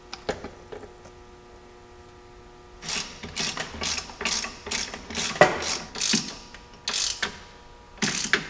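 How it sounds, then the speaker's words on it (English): Ratchet wrench tightening a shock absorber bolt on a Jeep Cherokee XJ during a suspension lift, a run of about a dozen quick clicking ratchet strokes in uneven bursts after a quiet opening, close and clear with no talk. "Then I'm going to take my ratchet wrench and tighten it up so that way the rubber bushing bulges out."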